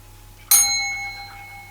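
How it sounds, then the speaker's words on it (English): A small bell on a table is struck once, giving a bright ding that rings out and fades slowly over a second or so in a quiet room. "There's a bell in the centre of the table."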